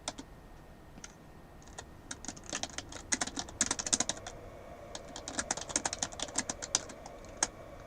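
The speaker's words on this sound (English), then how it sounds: "let me just type this in" Typing on a computer keyboard, a quiet, close run of irregular clicking keystrokes that begins sparse and speeds into busy bursts, with a few lone taps.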